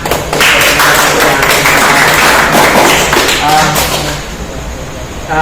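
Students in a classroom at a vocational manufacturing workshop break into applause, a dense burst of clapping that swells, holds, then thins out and fades, with voices mixed in.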